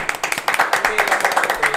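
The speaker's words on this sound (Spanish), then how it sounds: "Yo quiero que me dé un aplauso a esa gente que están viendo aquí el video." A studio audience claps in a brisk, dense burst of applause lasting under two seconds, loud and close, with voices mixed in.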